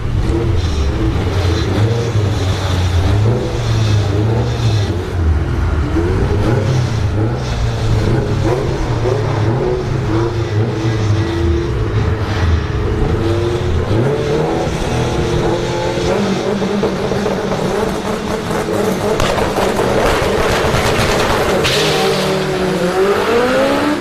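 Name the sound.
drag racing cars launching down the strip, right lane bogging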